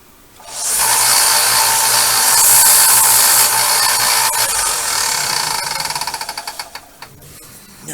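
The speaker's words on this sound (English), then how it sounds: "I'm going to go get the belt sander and square that" Belt sander squaring the cut end of an HO scale model rail: a loud, steady high-pitched grinding whine runs for about six seconds, then sputters into a pulsing rattle as the sander winds down.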